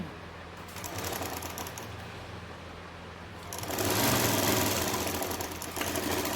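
Sewing machine stitching the neck of a kurti, a fairly quiet steady mechanical whir that picks up speed and grows louder partway through.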